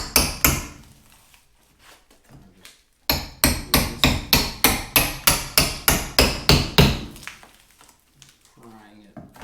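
Corner bead being pried and hammered out of drywall during a demolition: a fast run of sharp, loud metallic strikes in a steady rhythm, with a few scattered knocks before and scraping afterward.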